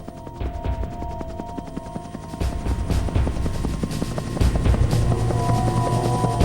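Rescue helicopters fly over a flooded area, their rotors producing a loud, steady rapid thudding chop with engine roar, close and continuous, with no talk.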